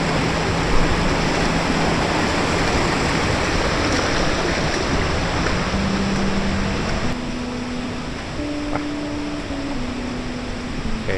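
A forest stream rushes past a primary school in Mae Mae village, Chiang Dao, a loud, unbroken wash of flowing water filling the whole stretch with a faint low hum drifting underneath.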